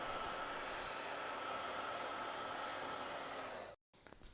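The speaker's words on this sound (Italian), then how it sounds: "questa sorta, chiamiamolo di reflow leggero fatto con il phon" A hair dryer blows steady warm air over the circuit board of an LCD alarm clock for a light reflow, giving a constant loud hissing rush that cuts off abruptly near the end, followed by brief faint handling noise.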